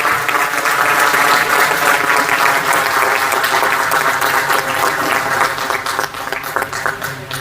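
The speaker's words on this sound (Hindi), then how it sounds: "तालियां।" Loud, sustained applause from a gathered audience at a BSNL jubilee day ceremony, thick and continuous clapping that thins slightly toward the end.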